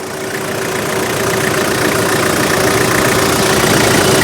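A steady, low idle from a Toyota Hilux Tiger 4x4 3.0-litre diesel pickup, with a constant mechanical rumble and a faint hum, running evenly throughout at close range.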